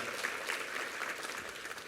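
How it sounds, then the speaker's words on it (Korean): A church congregation claps in encouragement during a Sunday worship service after a men's vocal ensemble performs, producing a steady, soft, distant wash of applause with no voices over it. "우리 수고한 남성 중창팀과 영상팀에게 한번 힘찬 격려의 박수 부탁합니다."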